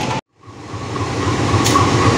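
A train entering a station in Indonesia rumbles steadily, a low heavy roll that builds after a brief cutout, with a faint squeal near the end.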